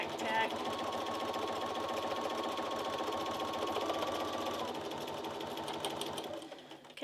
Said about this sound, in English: I'm just going to sew right down there. I'm going to sew right on that line.